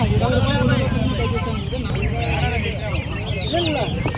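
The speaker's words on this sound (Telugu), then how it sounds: "మన మైసూర్ సంతలో మంచి మంచి కోళ్ళు వస్తాయండి." Chickens cluck and squawk continuously at the busy Mydukuru poultry market, many birds close by in a dense chorus, with people talking among them.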